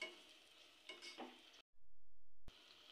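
Tomatoes sautéing in a pan for soya biryani give a steady, soft sizzle with light stirring, briefly cut to silence and then replaced by a low hum before the frying sound returns.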